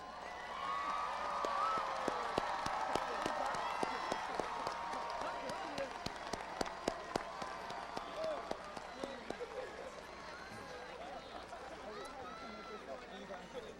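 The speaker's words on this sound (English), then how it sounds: "please stand for a very well-deserved round of applause" A large audience at a high school graduation applauds steadily, dense clapping mixed with scattered cheers and crowd chatter in a big room.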